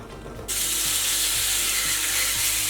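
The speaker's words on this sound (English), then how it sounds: "heat up our wok, add some oil, and then we're gonna cook our beef" Beef hits hot oil in a wok and erupts into a loud, steady sizzle that jumps up abruptly after a quieter start and holds at full intensity, with no talking.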